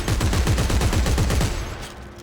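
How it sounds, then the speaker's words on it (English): A semi-automatic gun in the game Dead Space 3 firing a rapid string of about a dozen evenly spaced sharp shots, loud and close, then stopping as a ringing tail fades out. "It's actually semi-automatic, so you have to push your mouse button every time you want it to shoot"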